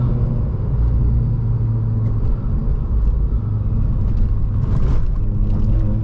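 A Mazda RX8 drives along back roads, its engine giving a loud, steady low rumble from inside the car with slight rises in revs and a whirring hum throughout, no talk.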